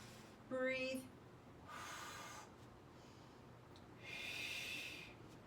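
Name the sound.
breathing during resistance band workout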